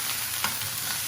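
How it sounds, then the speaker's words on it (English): Meat searing in a hot pan with rosemary, a steady close sizzle with a brief stir or shift partway through, no voices. "I'm letting them sear until they're all nicely closed up"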